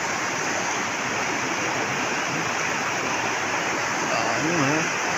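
A river rushes steadily near a waterfall, a dense broadband roar that stays even and close throughout, with a faint voice surfacing briefly near the end.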